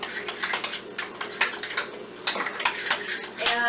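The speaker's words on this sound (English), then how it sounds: "Okay, now we just stir this up very good." A utensil clinks and scrapes rhythmically against a bowl while stirring a Hollywood cheesecake topping with vanilla, close and fairly quick, in a home kitchen.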